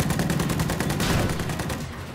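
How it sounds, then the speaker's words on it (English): Dense, continuous video game gunfire crackles loud and close, with many overlapping rapid shots forming a steady volley that barely lets up. "We are taking fire from enemies."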